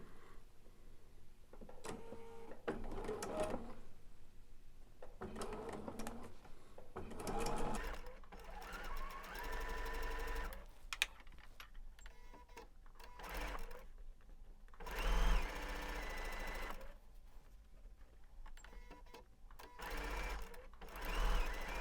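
Sewing machine stitching quilt fabric with a quarter inch foot, running in bursts of fast steady whirring, with brief stops and restarts between seams, close and fairly quiet.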